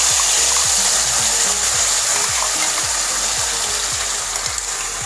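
Masala hitting hot oil in a kadai sets off a steady, loud frying hiss, broken by repeated low clattering knocks from the spoon against the pan, with no talk.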